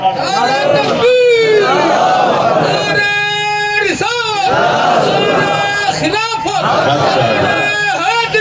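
A crowd at a religious Milad gathering chants a slogan in loud, drawn-out unison shouts, rising and falling in repeated waves from many voices at once.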